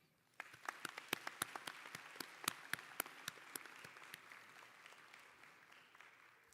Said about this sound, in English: giving a round of applause to say thank you to everyone who has helped you